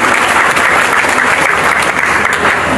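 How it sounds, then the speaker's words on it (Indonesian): A large audience at a building inauguration ceremony bursts into dense, sustained clapping that holds steady and loud throughout, with no talking over it. "Tepuk tangan sekali lagi untuk UI dan PIA."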